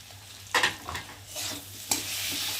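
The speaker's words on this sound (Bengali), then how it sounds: "আমি মশলাটা ভালোভাবে কষিয়ে নেব" Spice paste of turmeric, ginger and cumin with a small tomato sizzles in a pan, broken by a few sharp scrapes and stirs of a spoon against the metal, close and moderately loud with no voices.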